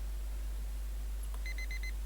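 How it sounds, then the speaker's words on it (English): Alarm clock in a DDLC: Blue Skies visual novel gives a short run of bright electronic beeps, about four quick pulses near the end, over a low steady hum. "I groan as I fumbled for the alarm clock."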